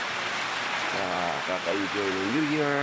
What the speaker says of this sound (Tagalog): Ngayon po ay maulan, walang hupay na ulan.